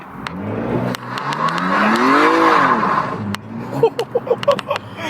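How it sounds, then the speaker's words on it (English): A BMW M235i launches hard under launch control, the engine note climbing steeply as revs build and then easing off, with sharp clicks and bursts near the end; close and loud, no talking. "launch control, you just put your foot on the brake, hard down on the accelerator"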